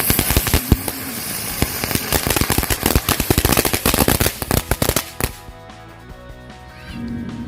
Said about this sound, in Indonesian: selanjutnya kita nyalakan mercon bunga teratai